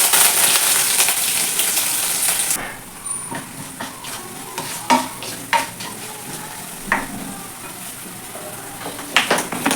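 Onion, green chili and curry leaves hit hot oil in a pan with a loud, steady sizzle, which eases after a couple of seconds into lighter frying crackle with scattered sharp pops and stirring clinks close by.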